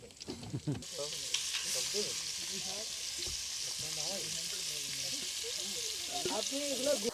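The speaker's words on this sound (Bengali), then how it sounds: "ইলিশ মাছ একদম করকরে ভাজি" Hilsa fish frying crisp in hot oil, a steady bright sizzle filling the clip with low background voices murmuring underneath.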